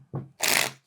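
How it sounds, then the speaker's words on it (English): Two quick, close riffling bursts of tarot cards being shuffled by hand, the second longer and brighter, with no talking. "Let me just shuffle first."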